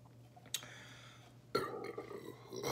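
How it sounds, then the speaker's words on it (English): A single burp follows a gulp of Faze Rug Sour Blue Chug Rug, a zero-sugar canned drink. The short, throaty belch stands out clearly against quiet background hiss. "Excuse me, people. I had to burp."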